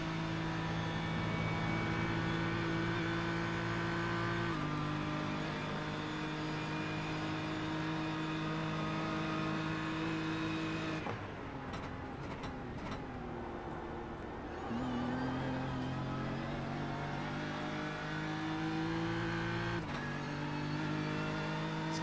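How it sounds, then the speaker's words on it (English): A GT4 race car during a 12-hour endurance race passes on track with its engine droning loudly. The pitch shifts as the driver lifts off the throttle and coasts, then gets back on the power, with steady engine noise throughout. "let's listen this time by and see if Wayne Burke is lifting and coasting"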